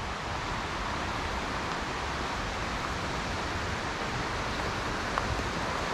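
A forest stream rushes in a constant, even hiss that never breaks or changes, close by and fairly loud.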